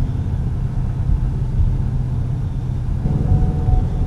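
A manual stick-shift car pulls away in first gear after the clutch is released, its engine giving a steady, close, low rumble that holds throughout with a slight rise toward the end, no voices over it.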